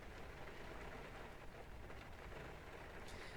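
Steady rain falling in the X-Plane 11 flight simulator, a dense, even wash of hiss and patter holding at a constant level throughout, with no talk.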